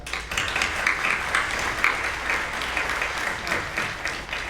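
Audience applause at a Northeastern University event on women in public office, a dense, steady wash of many hands clapping from a sizable crowd, sustained and fairly loud throughout with no speech on top.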